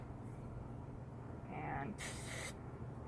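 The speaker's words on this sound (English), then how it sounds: "we're going to spray into the bottle, into the jar really, really fast, some of our hairspray" Hairspray is sprayed rapidly into a jar during a classroom science demonstration, a short bright hiss of about half a second rising over a low background hum, fairly near and moderately loud.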